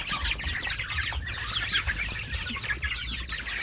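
Chickens cluck busily on a rural farm, a close flock giving repeated short, overlapping clucks and calls over soft low background noise.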